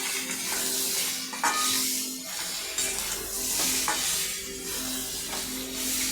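Turmeric, chili and cumin powders and salt are stirred into boal fish curry with potatoes frying in oil. A loud, close, continuous sizzle runs throughout, broken by rhythmic scraping strokes of the stirring spoon.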